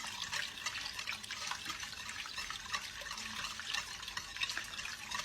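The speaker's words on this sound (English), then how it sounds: "you see I'm stirring, continuously stirring and slowly dumping it in" Coconut soup stirred continuously in a pot while liquid is poured in slowly, giving a soft, steady, close sloshing and trickling without speech.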